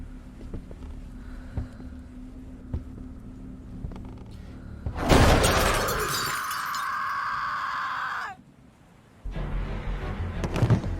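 Window glass shatters in one sudden loud crash, with a bright ringing spray of breaking shards that lingers for a few seconds before cutting off, over a low background murmur.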